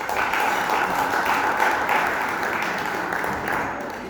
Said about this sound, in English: Ladies and gentlemen, please let's give them a round of applause.